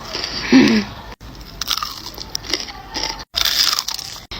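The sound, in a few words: crunching crispy chicken tenders and fries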